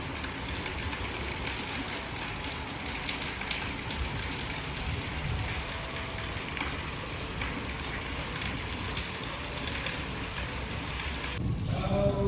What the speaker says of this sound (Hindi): आज तो हमारे यहाँ बहुत तेज बारिश